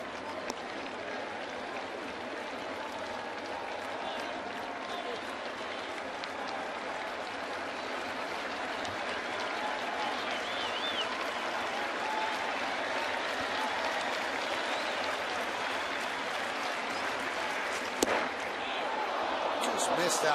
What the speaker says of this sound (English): Crowd wanted strike 3, so did Pettitte